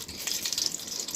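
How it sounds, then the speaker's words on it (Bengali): A spoonful of ghee hits a hot wok, giving a brief, faint, crackling sizzle with soft hissing pops. "কড়াতে আমি 1 চামচ ঘি দিয়ে দেবো।"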